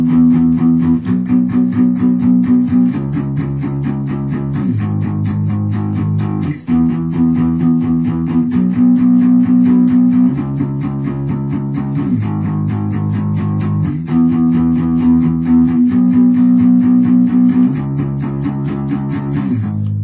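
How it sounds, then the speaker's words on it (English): Distorted electric guitar plays a palm-muted chord progression from a song, a steady chugging eighth-note rhythm repeating the same chord pattern three times, loud and close with no talk. "Now, you're going to do that chord progression 3 times in a row."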